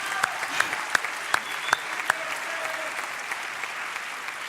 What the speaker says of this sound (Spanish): Te vitorean al fondo.